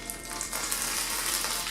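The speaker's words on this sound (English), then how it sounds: "He's a sizzling." Loud, steady sizzling and crackling of chicken wings baking in hot fat in an oven, continuous and close throughout.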